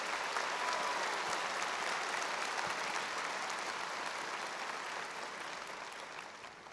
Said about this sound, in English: Please join me in a round of applause to express our appreciation for the hard work of the school board and these administrators.